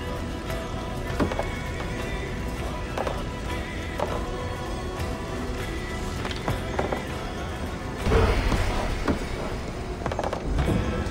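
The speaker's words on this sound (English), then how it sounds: "A good horse!" A horse whinnies and its hooves clip-clop steadily across a stretch of ground, with a louder burst of hoof and movement noise near the end. No one speaks.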